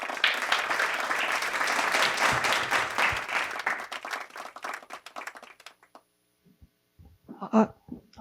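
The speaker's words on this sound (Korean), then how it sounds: "다시 한번 박수 한번 부탁드리겠습니다." Audience at a Korean admissions seminar for National Diplomatic Academy candidates applauds in a dense, steady burst of clapping that thins out and fades, leaving near silence with a few scattered claps at the end.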